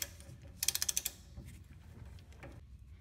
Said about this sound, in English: And now I can loosen the castle nuts.